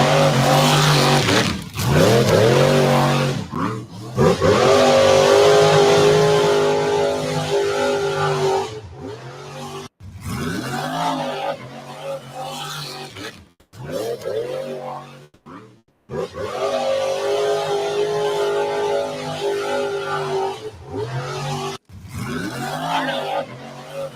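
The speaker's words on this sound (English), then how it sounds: "That's not a normal Jeep engine, I don't think." A modified Jeep engine revs hard in loud, sustained roaring bursts, rising and falling with several short gaps between pulls, close and dominant with no talk over it.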